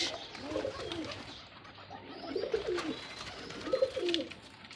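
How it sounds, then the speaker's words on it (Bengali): Pigeons and doves cooing in a loft on a farm, soft repeated coos in three clusters over steady ambient noise, no talking. "54-55 জোড়া কবুতর রয়েছে, এর মধ্যে যে ঘুঘু রয়েছে"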